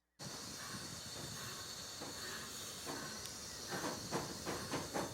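Trains running in the simulation game Transport Fever 2, a steady hissing rumble of rail traffic with soft rhythmic clicks building toward the end.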